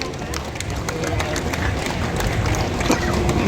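Audience applause at the 35th Philippine Travel Mart, a dense, steady wash of clapping and crowd murmur filling the hall at moderate loudness.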